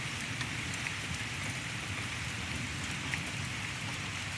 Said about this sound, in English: All this constant thunder we're hearing, I guarantee the cell's producing some small hail.